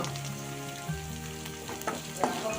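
Garlic fries in a pan for a spinach keerai kadayal, a soft, steady sizzle at close range with a few faint stirring taps scattered through, quiet and without voices.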